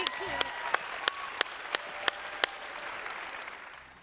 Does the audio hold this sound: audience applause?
yes